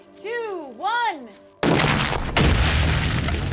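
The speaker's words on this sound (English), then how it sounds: "Yep, the backup boom works a treat." A backup charge of C4 plastic explosive goes off after a warbling tone: a sudden loud blast that opens into a sustained rumbling roar, with a second sharp crack about a second later.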